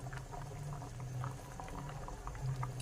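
A pot of black beans boils on the stove, a steady close bubbling and popping that continues throughout without any voices.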